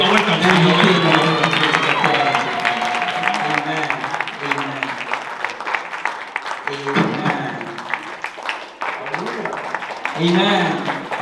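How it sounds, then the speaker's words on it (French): A church congregation at a Swahili service claps to welcome the preacher, sustained crowd applause with cheering and several voices calling out over it, loud and continuous with brief dips. "I'm going to plead you to clap the hands."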